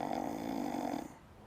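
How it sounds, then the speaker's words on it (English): A woman's snoring on a mission trip, one loud drawn-out rasping snore that cuts off and leaves quiet breathing. "like she was snoring"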